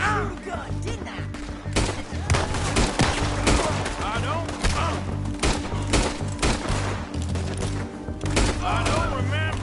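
Repeated gunfire from revolvers and rifles in a Red Dead Redemption 2 shootout, sharp loud cracks coming in irregular bursts close by, with a voice speaking briefly between shots.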